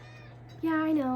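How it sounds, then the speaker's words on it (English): A pet cat lets out one clear, rising-then-falling meow up close, right after a brief spoken remark, over a steady low background hum. "sorry, that's my cat"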